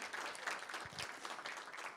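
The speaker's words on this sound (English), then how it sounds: "People are providing a round of applause for you" An audience at an online hackathon event gives a round of applause, a faint, steady patter of many hands clapping together, heard as a soft wash of sound over two seconds.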